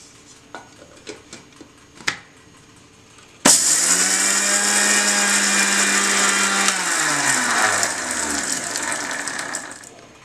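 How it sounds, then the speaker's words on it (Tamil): A mixer grinder runs loud and steady, grinding roasted flax seeds in its jar with a high whirring roar and rattle, after a few faint clicks. The motor pitch drops as it winds down at the end. "இப்போ இதை மிக்சி ஜாரில் போட்டு அரைச்சிக்கணும்"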